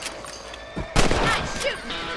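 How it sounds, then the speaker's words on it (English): A rifle shot in Red Dead Redemption cracks once loudly after a faint lead-in, its echo trailing off over a low outdoor game ambience. "Get your rifle out."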